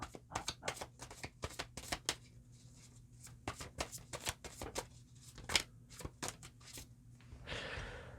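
Tarot cards are shuffled in a rapid series of crisp riffling bursts, close and fairly quiet, with brief pauses between handfuls and a softer rustle at the end.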